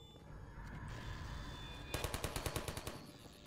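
Turret gunfire in Half-Life 2: after a low ambient hum, a rapid burst of about a dozen evenly spaced shots rattles out, fairly faint overall and with no talking.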